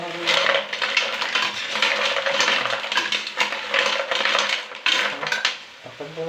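Mussels for tinola being stirred in a metal pot, giving a steady run of clattering shell-on-metal knocks and scrapes with no pause, loud and close throughout.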